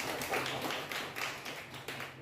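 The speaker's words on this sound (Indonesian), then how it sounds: "Tepuk tangan untuk kawan kita." Schoolchildren in a classroom clap for a classmate, a brisk patter of many hands at moderate volume, steady for a couple of seconds.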